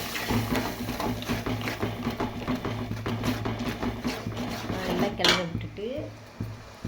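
Chicken noodles being stirred in a pan, with repeated metallic scraping and clinking of a utensil against the cookware, steady and close, under quiet background noise.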